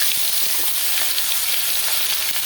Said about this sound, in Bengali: একই তেলে দিয়ে দেবো পেঁয়াজ